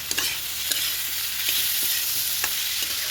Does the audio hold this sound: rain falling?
no